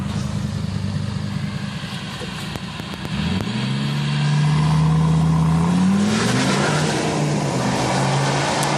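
A VW Touareg V10 TDI diesel SUV with an open exhaust revs hard, the engine note climbing and holding loud and close before dropping back, with rumbling idle beforehand.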